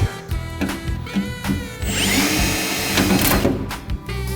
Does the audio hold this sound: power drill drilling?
yes